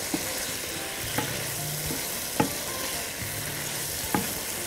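Chicken frying in a pan is stirred. Soft sizzling runs steadily underneath, with several sharp scrapes and clinks of the spoon at irregular intervals. No one talks.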